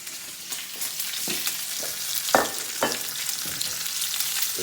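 Garlic sizzles in a lamb ragu sauce in a pan over medium heat, giving a steady crackling fry broken by several short scraping stirs and clacks, with no one talking.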